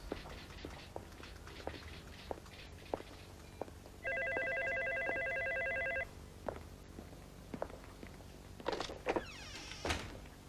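An old-style telephone bell rings steadily for about two seconds in a quiet indoor scene with faint movement sounds, then a single ring burst, not overlapped by talk.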